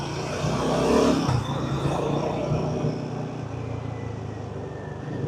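Royal Enfield Guerrilla motorcycle engine revved with the throttle, a steady close rumble that swells early and then holds at a fairly even level, with a faint voice in the background.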